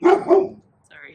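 Two quick loud barks from a neighbor's dog passing by outdoors in a garden as a FedEx delivery arrives, followed by a brief pause and a short spoken word.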